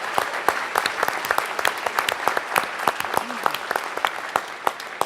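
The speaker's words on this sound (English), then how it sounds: "So give the MLK Freedom Center another round of applause." Audience applause for the MLK Freedom Center at an evening lecture series event, a steady patter of many hands clapping up close and fairly loud.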